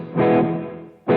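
Electric guitar runs through a Headrush MX5 with delay and drive both at full, giving a thick distorted chord that swells and slowly fades, then a fresh strike cuts in at the end.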